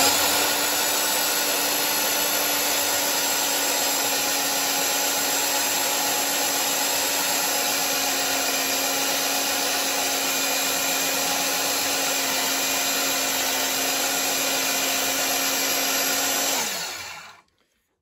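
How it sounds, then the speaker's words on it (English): An old Sears half-inch electric drill from around 1980 bores steadily into wood, its motor holding one loud, even whine for the whole stretch before winding down and stopping at the end. "This is a Sears half inch drill."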